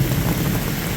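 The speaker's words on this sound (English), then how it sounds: "You can tell it's just raining cats and dogs." Heavy rain pours down on a hiking trail turned into a running stream, a dense, steady roar of drops with deep low rumble, loud and constant, no voices.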